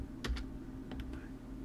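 A few quick, faint clicks of keys typed on a computer keyboard while entering a short command in AutoCAD Civil 3D, soft and close over a low background hum.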